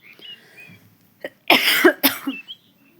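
A few harsh coughs close to the microphone, one longer burst followed by a shorter one, with faint bird chirps in the quiet background.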